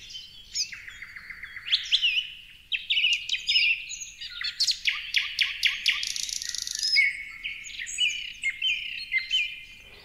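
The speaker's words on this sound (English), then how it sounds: "the beautiful birds whose songs weave the very fabric of the forest." Several forest birds sing and chirp continuously, with rapid trilled phrases, sharp tweets and overlapping calls from more than one bird, fairly close and clear over a quiet, low background hum.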